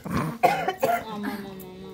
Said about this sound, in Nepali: खोकी स्टार्ट